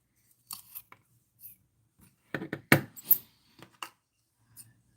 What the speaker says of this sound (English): I'm just going to use a pair of scissors.